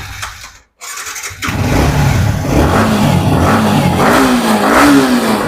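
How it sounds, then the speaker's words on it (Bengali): A Yamaha MT-15 motorcycle engine cranks, catches and starts, then idles loudly and revs up and down a few times, close and strong. "এম টি ফিফটিনের একবার আওয়াজটা শুনে নিন"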